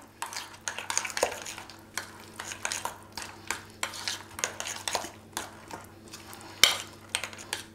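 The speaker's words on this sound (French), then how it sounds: "Je n'ai plus qu'à remuer." A white sauce stirred in a pot, with repeated scraping and clinking strokes in a steady rhythm, close and fairly loud, plus one sharper knock near the end.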